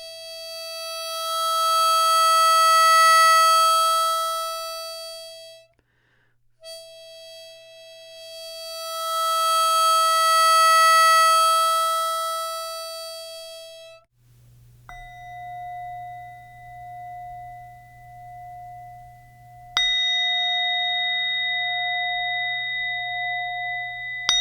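Buchla synthesizer tones shaped by a low pass gate: two long, bright, harmonic-rich notes that swell and fade, then quieter pure sine-like tones with a low hum and a higher ping near the end, no speech.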